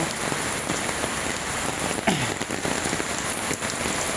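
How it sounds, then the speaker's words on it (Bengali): Heavy rain drums down close and steady, a dense patter on surfaces with a short whooshing swell midway. "আজকে খুব বৃষ্টি হচ্ছে"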